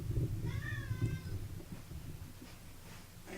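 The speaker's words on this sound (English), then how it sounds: "Angry cat." An angry house cat named Onyx lets out a loud, drawn-out wavering meow close by, followed by a low background murmur.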